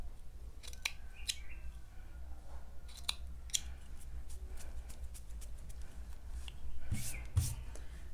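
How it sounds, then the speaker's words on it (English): Scissors trim loose yarn strands from a handmade tassel, giving a string of sharp, faint snips at irregular intervals, close up against a quiet room hum. "Cut off any protruding strands."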